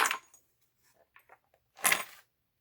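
Small metal die-cast toy aircraft pieces clink together in two quick bursts, with a few faint taps between them, close and alone with no talking.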